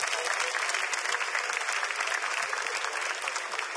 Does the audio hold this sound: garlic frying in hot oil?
no